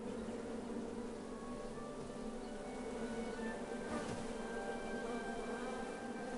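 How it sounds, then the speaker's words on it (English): Bees buzz steadily around a beehive in the video game Knights Quest, a continuous droning hum with thin whining tones that hold through the whole stretch at an even, moderate level. "Bees! I ruined the bees' day and that lovely meal."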